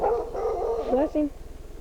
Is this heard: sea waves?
no